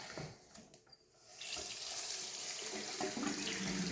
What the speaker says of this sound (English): I'm going to go ahead and rinse out the rest of the sink real quick.